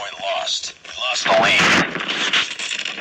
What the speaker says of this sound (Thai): โอ้โหปืนกลจ้า นัดเดียวไม่ตาย